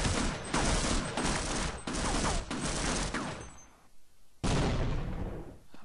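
Rapid, loud bursts of automatic turret gunfire in the video game Half-Life, a dense stream of shots that breaks off briefly and then resumes just as hard.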